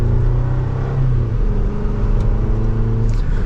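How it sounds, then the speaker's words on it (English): A 2024 Chevrolet Colorado Trail Boss pickup accelerates in second gear in low range, its engine giving a steady, loud rumbling drone with a rising tone, heard from inside the cab without talk. "So let's go to second gear, give it some gas."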